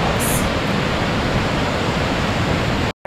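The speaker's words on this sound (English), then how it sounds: "listen to that noise of those falls" Frank Falls, a waterfall on a Temagami canoe route, roaring loudly and steadily close by, a dense unbroken rush that cuts out abruptly near the end.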